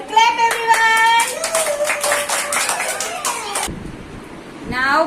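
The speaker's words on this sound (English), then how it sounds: "Clap everyone" Children in a classroom number-identification activity clap in quick rhythmic bursts, sharp close claps mixed with high young voices chanting along, then a pause before a voice speaks.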